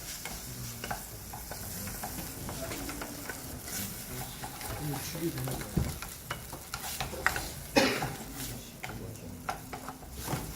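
Rice is stir-fried with other ingredients in a pan: a constant frying hiss under frequent spatula scrapes and clacks against the pan, close and busy, with no speech.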